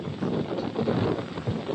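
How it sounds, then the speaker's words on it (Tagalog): Strong gusting wind buffets the microphone in rough, rumbling surges, loud and close throughout. "kanina hindi paulan pero yung hangin hindi rin ganito kalakas"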